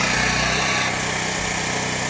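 Big-turbo Audi A3 engine held at high revs on a dyno, a loud continuous high-pitched drone that stays steady throughout with no talking.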